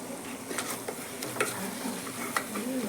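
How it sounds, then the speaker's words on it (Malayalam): Garam masala and coriander powder are stirred in a hot pan, likely with a spatula. A soft continuous sizzle sits under light scraping strokes and a few sharp ticks, close by with no voices. "ഗരം മസാല, മല്ലിപ്പൊടി. നമുക്കിത് നന്നായി ഇളക്കി കൊടുക്കാം."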